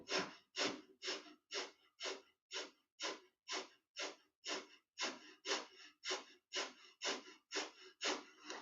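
Rhythmic, forceful breathwork exhalations, about seventeen sharp out-breaths pushed from the lower belly in a steady, quick pulse, each a short, close, loud puff of air with no talking.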